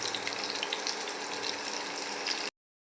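Cumin seeds, chopped onion and green chilli frying in a pan give a steady, dense sizzle close by, unbroken for about two and a half seconds and then cutting to silence.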